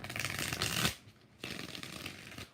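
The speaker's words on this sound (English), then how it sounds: "Let's use the Tattoo Tarot. 6 shuffles." Tarot cards from a tattoo-themed deck are shuffled in two bursts of riffling, the first longer and louder, then a brief pause before a second quieter shuffle, close and alone.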